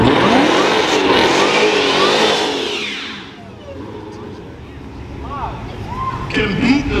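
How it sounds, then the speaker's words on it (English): A 1320 Toro 704 races a supercharged Dodge Charger Hellcat at a car show callout race, a loud engine roar that sweeps past and fades, then another car revs nearby as spectators talk. "We got a 1320 Toro 704 versus a Charger Hellcat."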